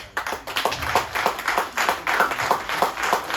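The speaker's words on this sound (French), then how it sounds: "Alors, Larissa, nous applaudissons." People at a political list presentation in Saint-Louis clap together in a quick, uneven rhythm of individual hand claps, fairly close and lively, with no speech over it.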